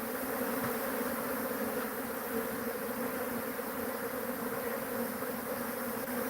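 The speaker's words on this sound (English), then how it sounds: "You can hear already they're starting to calm down a little bit more." A large swarm of African honey bees fills the air with a steady, dense buzzing drone that holds at an even level throughout, close and continuous with no talk.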